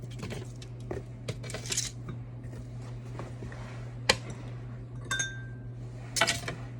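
Fresh asparagus spears dropped into a bowl while preparing roasted lemon asparagus with chickpeas: scattered light clinks and taps, a few sharper knocks, faint and close over a steady low hum.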